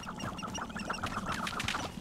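Several chickens cluck and chatter close by in a busy, overlapping flock in the video game Hogwarts Legacy, fairly quiet overall.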